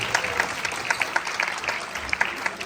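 An audience at a charity dinner event claps, a fairly faint, loose patter of individual hand claps with a few sharper close claps standing out, and no talking.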